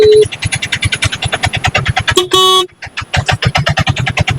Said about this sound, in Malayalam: ഒന്ന് ഹോൺ അടിച്ചു നോക്കാം